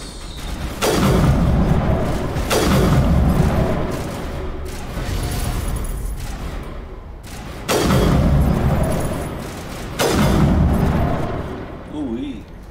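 Gunfire in Mass Effect 1: sustained bursts of loud automatic weapon fire arrive in several long volleys separated by brief pauses, with booming impacts, under someone talking.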